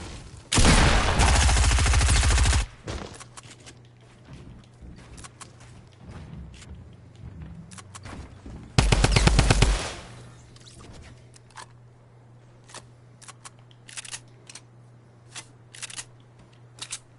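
Fortnite gunfire: two loud, sustained bursts of rapid automatic fire, each lasting a couple of seconds, with a few scattered single shots and a steady low background hum between them.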